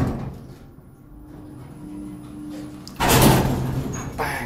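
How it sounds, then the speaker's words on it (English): Elevator doors closing in an H&M store in St. Albans: a quiet hum gives way to a sudden louder sliding rumble and thud of the doors near the end. "Doors closing."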